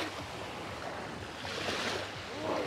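Sea waves wash onto a cold, seaweed-covered beach in Odessa, with a steady broadband surf rush and some wind noise on the microphone that swells slightly toward the end.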